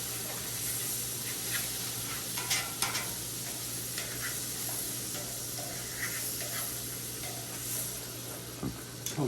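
Pats of butter sizzling on a steak in a hot pan, a constant close hiss and crackle with scattered pops and a few faint utensil taps, no talking.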